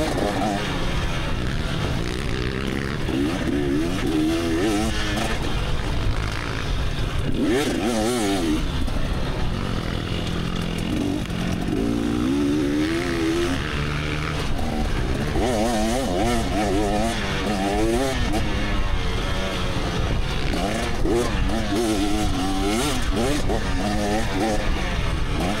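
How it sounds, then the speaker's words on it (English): A 300 two-stroke dirt bike engine revs and rasps loudly and continuously at motocross practice, rising and falling in pitch as the throttle opens and closes, close by throughout. "Bike sounds good."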